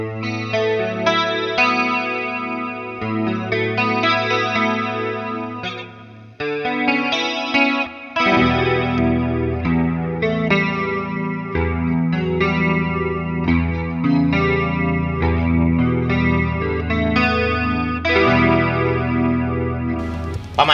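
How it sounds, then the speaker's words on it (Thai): Clean electric guitar through a custom TankG v2 preset with chorus, playing chords and melodic lines for about twenty seconds, loud and alone with a wide, shimmering tone. "ก็เป็นคลีนที่มีคอรัสขึ้นมาด้วยนะครับ"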